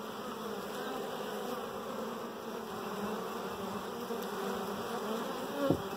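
Honeybees fly in and out of a beehive in a bee yard, a steady close buzzing drone of many insects with one louder bee passing near the end.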